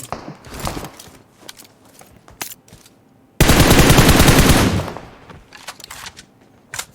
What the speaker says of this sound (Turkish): Bak uzakta biri lan sıkıyor